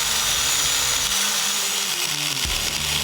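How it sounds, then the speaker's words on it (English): A cutoff wheel grinding through metal exhaust headers during a big-block engine swap into a 1972 Mercury Marquis, a loud continuous whine and hiss that dips briefly as the wheel bites, close up. "The bulk of the chopping can be done with a cutoff wheel."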